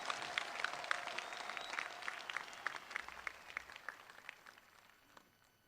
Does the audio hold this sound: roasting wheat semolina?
no